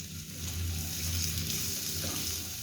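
Onions and capsicum frying in a pan give a steady, dense hiss of sizzling oil that stays even and close throughout, with no talk.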